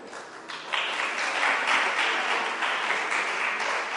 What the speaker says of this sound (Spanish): Yo digo esto y tú aplaudes.